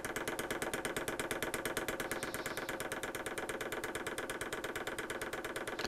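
A Lavaner Pro Alpine diesel heater fuel pump primes with a fast, steady ticking pulse, even in rhythm and fairly quiet, with no voices over it.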